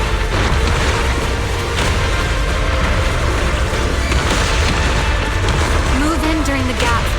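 Explosions in the video game Zenless Zone Zero form a loud, continuous booming roar with dense low rumble, sustained without pause and mixed with busy game sound.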